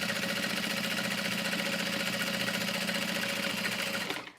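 A sewing machine runs steadily, stitching through vinyl close to its raw edge at a long stitch length, a continuous mechanical hum with rapid needle ticking that holds evenly and then stops abruptly near the end.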